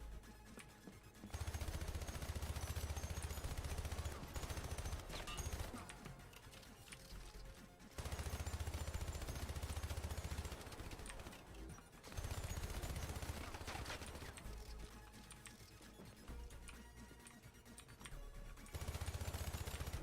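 Sustained gunfire in a first-person shooter video game: long sequences of rapid automatic shots in dense bursts, broken by short pauses, loud and continuous across the stretch with no clear talk.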